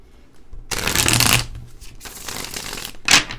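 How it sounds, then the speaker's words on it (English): Rider-Waite tarot cards are shuffled in two quick riffling bursts followed by a short final snap, close and crisp with no talking. "These cards just shuffle so well."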